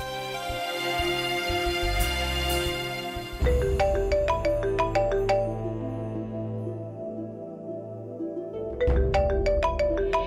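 A mobile phone rings with a repeating electronic ringtone melody of bright, evenly spaced tones that cycle several times and stay loud and close, with no talking over it.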